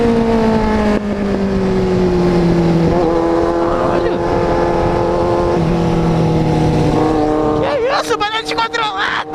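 A motorcycle rides along a city street among a group of bikes. Its engine drones loud and close with a steady tone that slowly slides in pitch, and excited voices rise near the end.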